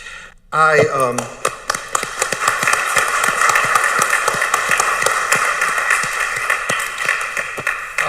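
A school board meeting audience applauds a salutatorian, with a sharp vocal burst at the start followed by scattered, crisp individual claps. The claps settle into a thin, uneven round of applause from a modest group in a room.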